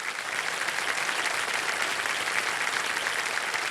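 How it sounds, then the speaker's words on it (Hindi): A studio audience on the quiz show Kaun Banega Crorepati breaks into dense, steady applause, many hands clapping evenly and loudly for a few seconds with no talking. "तालियों के साथ इनका हम स्वागत करते हैं।"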